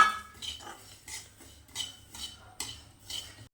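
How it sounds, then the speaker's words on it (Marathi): Sesame seeds are dry-roasted in a heated kadhai while a spatula scrapes and clinks against the metal in quick repeated strokes, close and fairly quiet, with no talk. "आता तीळ भाजून घेऊ."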